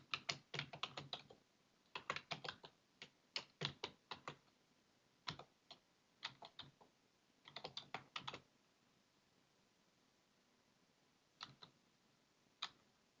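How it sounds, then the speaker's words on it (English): Keys clatter on a computer keyboard as a command is entered, close and fairly quiet bursts of rapid clicking separated by short pauses, the last keystrokes isolated, with no voice. "So I'm going to go ahead and type that."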